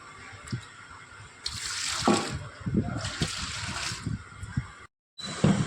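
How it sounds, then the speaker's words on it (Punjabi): Water drains from paneer made for gulab jamun, pouring and splashing in uneven bursts close by, with a short silent gap near the end. "ਦੇਖੋ ਨਿਕਲ ਰਿਹਾ ਪਾਣੀ ਆ ਪਾਣੀ ਦਾ ਐ ਜੱਗ ਭਰ ਭਰ ਕੇ ਇਹਨੂੰ ਸਾਈਡ ਤੇ ਕੱਢ ਦਾਂਗੇ"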